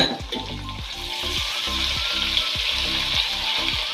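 Garlic ginger paste and whole spices, black pepper, cumin and black cardamom, sizzle loudly in hot oil for masala aloo rice, a continuous close frying hiss with rhythmic stirring scrapes throughout.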